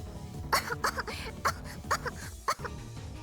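A run of sharp, raspy coughs from a character in the game Steins;Gate, about seven bursts in quick succession, close and clear with no speech.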